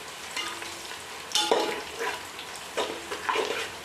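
Garlic and curry leaves fry in hot oil for spicy poha chivda, a steady close sizzle with occasional louder stirring scrapes and crackles, no voices.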